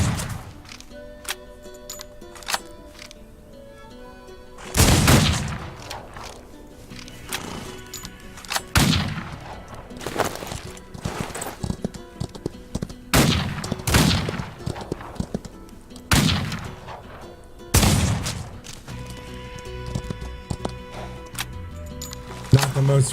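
Gunfire in the Old West video game Outlaws of the Old West: about eight sharp, loud shots at irregular intervals, each with a short echoing tail, over a busy game background while someone talks between them.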